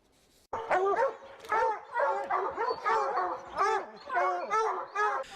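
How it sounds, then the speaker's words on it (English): A pack of hounds bays loudly and close by at a bear up a tree, with repeated overlapping yelping barks in steady bursts after a brief quiet start. "A pack of hounds bays at a treed bear."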